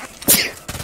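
A single short sneeze, a sharp burst of breath that fades quickly, heard alone and fairly close.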